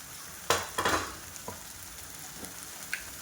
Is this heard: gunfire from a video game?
no